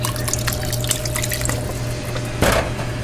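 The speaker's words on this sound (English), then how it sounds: "just go ahead and pour pretty much the whole thing" Roughly a quart of liquid pours into a pot of taco soup as a steady, close splashing stream with dripping, ending in a louder gush near the end, over a constant low hum.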